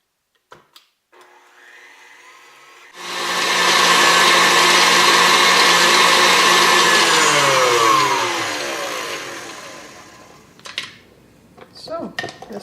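An electric mixer whirs loudly through apricot cake batter for about seven seconds, starting abruptly and easing off, with quieter kitchen clatter before and after.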